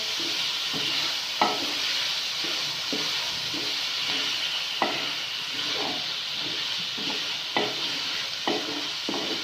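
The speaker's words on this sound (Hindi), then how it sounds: "अब हम इसे मिक्स कर लेंगे।" Mash lentils sizzle steadily in a hot pan while a utensil scrapes and stirs in irregular strokes, no talking.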